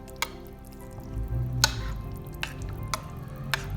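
Yogurt being poured and stirred into a bottle gourd curry in a pot, soft wet squelching with a few sharp clinks of the spoon against the pan, close and moderate, no talking.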